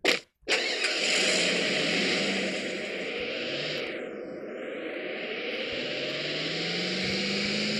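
A car engine in the mobile shooter game PUBG Mobile starts with a sharp click, then settles into a steady, loud mid-pitched hum that carries on alone without any talk.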